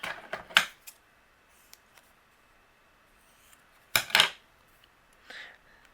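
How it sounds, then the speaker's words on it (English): Scissors trim a piece of foam for cardmaking, with two close bursts of crisp snipping separated by a long quiet gap and a faint rustle afterward. "take a piece of foam. I will trim it down"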